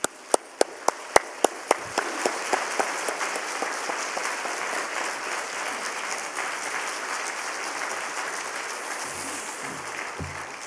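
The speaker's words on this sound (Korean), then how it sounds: "우리 나오실 때 뜨거운 박수로 환영하며 축하하겠습니다" A church congregation at a Wednesday service gives warm applause to welcome a pastor, opening with a run of sharp, rhythmic claps that blend into a sustained, even wash of clapping before fading at the end.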